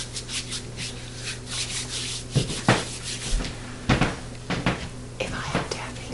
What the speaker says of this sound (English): just rub it all over and then knead that dough